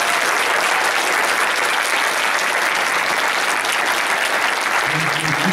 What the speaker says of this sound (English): I think we should give another round of applause to our educational panel.